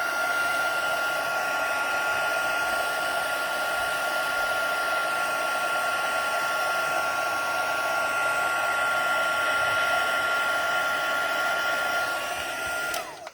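A heat tool blows steadily for about thirteen seconds, melting white embossing powder on a stamped card; its fan whine and rushing air hold constant and close before cutting off at the end, with no talk.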